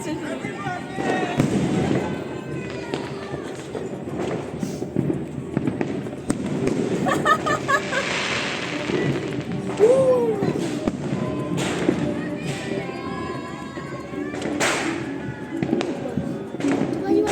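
Fireworks burst outside on New Year's Eve, a steady barrage of booms, thuds and crackles layered on top of one another, while people talk nearby over the noise.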